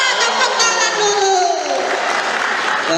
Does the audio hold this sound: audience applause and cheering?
yes